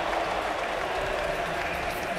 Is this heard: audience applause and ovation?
yes